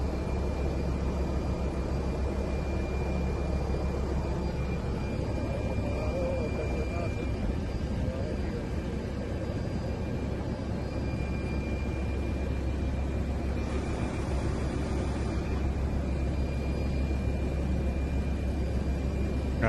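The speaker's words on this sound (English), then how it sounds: "this is a drone, but it sure seems like a helicopter" A drone that sounds like a helicopter, its steady low rotor hum and whine running throughout, moderately loud under intermittent talking.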